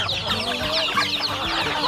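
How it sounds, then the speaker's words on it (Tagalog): Several chickens cluck and chatter close by at feeding time, a busy overlapping flock with no talking. "magpapakain muna tayo sa ating mga alaga dito manok."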